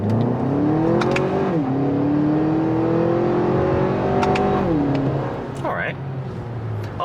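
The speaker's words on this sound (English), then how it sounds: "once you go like full throttle, you'll see in a moment, it gets a little harsh and it's not the best" A Lexus RX350's 2.4-liter four-cylinder engine is run at full throttle, a harsh, loud drone that rises in pitch twice and drops at each gear shift, with some talk over it.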